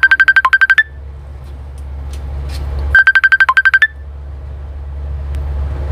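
A phone ringtone plays two short bursts of rapid, bright repeated chirps about three seconds apart, clear and near over a low steady hum, with no talking.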